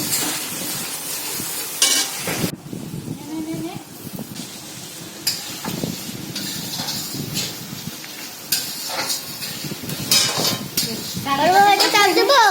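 Masala spices fry in a pan as the base for a Bengali fish kalia, a steady sizzle broken by scraping stirs and a few clatters, with faint voices in the background.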